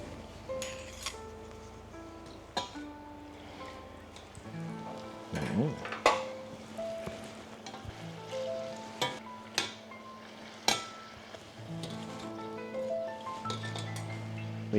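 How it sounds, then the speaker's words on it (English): Italian graffe donuts frying in oil, a low sizzle under repeated clinks and knocks of a utensil against the pot, with a voice talking over part of it. "Need to make sure it takes about 3 to 5 minutes roughly for frying them."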